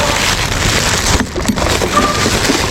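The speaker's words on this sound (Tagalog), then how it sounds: "Ayan na yung ulan." Rain falling outdoors during a trip, a steady dense hiss of drops on surfaces that continues throughout with broadband wash, loud and close.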